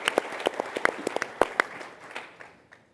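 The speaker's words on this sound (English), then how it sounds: "let's give a round of applause for the wives" An audience at a lodge honor lecture panel breaks into sparse applause, individual claps standing out sharply at first before the clapping thins and fades out within a few seconds.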